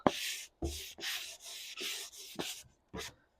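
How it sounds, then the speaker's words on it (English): Rhythmic rubbing strokes of a sanding sponge buffing wax on chalk-painted wooden furniture, about seven short passes in quick succession, close and clear with brief pauses between. "take my same sanding sponge and just kind of gently wax"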